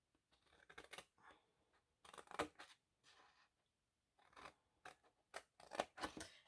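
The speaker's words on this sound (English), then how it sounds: "We're going to cut at this first score line up to the first score line." Scissors snipping through scored paper for a Halloween suitcase craft, several short bursts of close cuts separated by pauses, quiet and with no talk.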